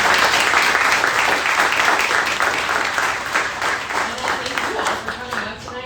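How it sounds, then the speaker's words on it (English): An audience at a sustainable fashion workshop claps for the panel, dense steady applause that carries the whole time and slowly fades a little toward the end. "Just a quick round of applause for our panel."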